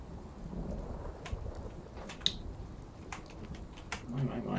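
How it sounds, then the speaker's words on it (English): Rain and thunder in the video game Fallout 4: a steady hiss of falling rain with a low rumble and scattered sharp drops and crackles. "It just came on to rain pretty quickly, didn't it?"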